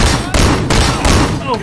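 Gunfire in the action video game Sleeping Dogs, heard as a few loud, dense blasts in quick succession with reverberant tails, filling the short stretch with little pause between them.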